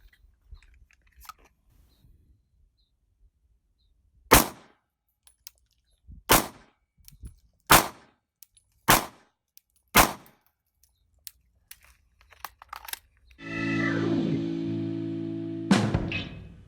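Handgun shots fired at a target on a shooting range: sharp, isolated cracks spaced one to two seconds apart in a slow deliberate string, followed by a sustained rushing noise and one last crack.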